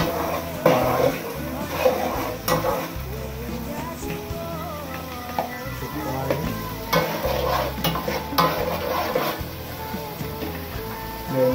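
Mixed vegetables for fried rice fry in butter in a pan with a steady sizzle, while a utensil stirs and scrapes them in irregular strokes and someone talks over the cooking.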